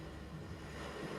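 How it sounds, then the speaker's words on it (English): Sea waves wash steadily onto the strand in a broad, continuous hiss of surf, with nobody talking. "That sound you hear is the sea."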